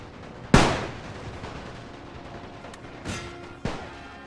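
Musket and artillery fire ring out in The Great War strategy game: one sharp, loud report followed by two more shots a few seconds later, each trailing off over a low battlefield rumble.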